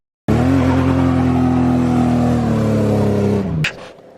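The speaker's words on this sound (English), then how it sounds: "I promised you all a burnout" A BMW E36 325i holds a loud, steady high rev during a burnout, with tyres squealing continuously for about three seconds before the engine drops off abruptly and the noise cuts out.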